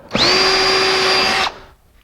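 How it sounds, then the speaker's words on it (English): A power drill fitted with a Forstner bit spins up sharply and bores into wood for about a second and a half, a loud, close, steady whine that cuts off abruptly, with no talking. "Now I've got a drill, I got a Forstner bit"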